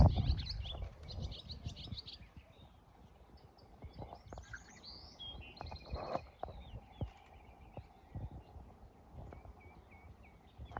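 Birds chirp and tweet outdoors in short bright bursts scattered over several seconds, fairly faint, with irregular thumps and clip-clop-like knocks nearby.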